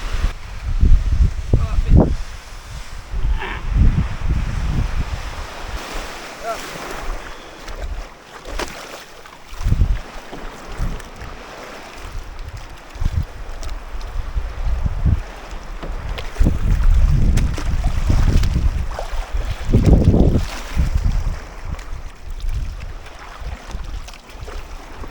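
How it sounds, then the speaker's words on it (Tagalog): A small boat out on the open sea, pitching in strong waves, with heavy wind roaring and buffeting the microphone and water slapping and surging against the hull in loud, uneven bursts throughout. "Medyo malakas yung alon ng dagat."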